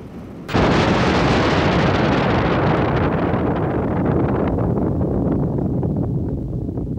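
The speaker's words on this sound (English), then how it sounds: "The first bombs were slung under a balloon and exploded in mid-air." Nuclear bomb slung beneath a balloon detonates in mid-air at the Mururoa test site, a sudden loud blast that rolls into a long, sustained roar and rumble, slowly fading over several seconds with no voices.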